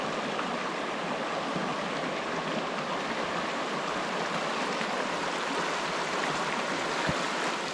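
A small Pennsylvania trout stream flows and burbles in a steady, close, continuous wash of water with no pauses and no voices.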